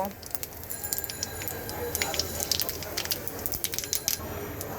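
Dried red chilli, whole cumin and a bay leaf tempering in hot oil give a close, busy sizzle with sharp pops and crackles throughout, while someone talks over it.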